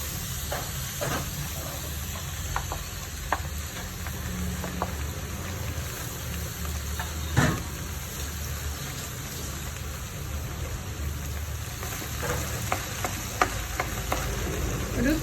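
Ground coconut roasting in a pan for vendakka theeyal, a constant low sizzle beneath repeated scraping and tapping strokes of a spoon stirring it, one louder knock midway, nearby and without speech.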